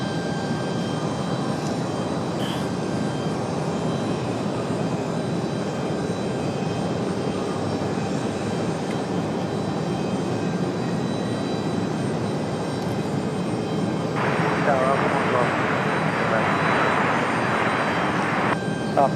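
An Icelandair jet departing Raleigh Durham airport, a loud continuous engine roar held throughout with a brief higher-pitched whine near the end, a faint voice underneath.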